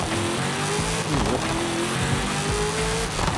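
A roaring Hennessey Venom GT engine in Forza Horizon 5 revs and shifts pitch, with a brief tire squeal, loud and continuous over a low rumble.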